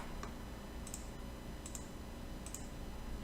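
Faint computer mouse clicks come while editing a wall profile in architectural CAD software: four soft, evenly spaced clicks over a quiet background hiss.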